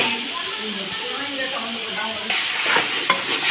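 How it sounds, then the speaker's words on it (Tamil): Chicken pieces sautéing in hot oil for a Tamil chicken kulambu, continuous sizzle with stirring scrapes, a voice faintly present underneath. "சிக்கன் கொஞ்சம் இந்த எண்ணெயிலே கொஞ்சம் வதங்கணும்"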